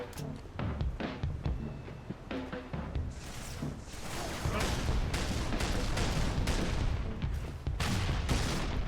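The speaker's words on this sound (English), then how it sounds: "these explosions chain react to the grenades nearby, and they can kill you as well" Halo 3 gameplay with dense gunfire and a string of chained grenade explosions, rapid sharp bangs and booms that build into a loud, continuous barrage.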